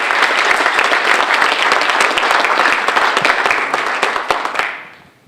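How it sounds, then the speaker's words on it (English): A conference keynote audience gives a hearty round of applause, dense and loud clapping from a large crowd that holds steady for several seconds, then tapers off and fades to quiet at the end. "let's give a round of applause for operating"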